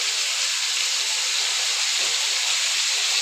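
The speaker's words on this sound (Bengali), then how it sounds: "তেলটা তো ভালোভাবে গরম করে নিয়েছি, এবার আলুগুলো দিয়ে দিলাম।" Potatoes dropped into well-heated oil in a pan, with salt and turmeric, for a vegetarian soybean-potato curry, giving a steady loud sizzling hiss that runs unbroken throughout, close up, with no talking.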